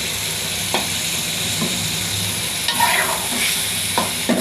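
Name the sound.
ground spice paste frying in oil for beef curry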